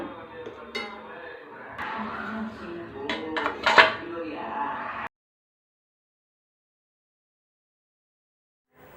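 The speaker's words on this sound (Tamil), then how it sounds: "இது ஒரு பிளேட் போட்டு மூடிடலாம்" A plate set down over a bowl of homemade leaf-based herbal hair dye mix: a few close ceramic clinks and knocks over about five seconds, then silence.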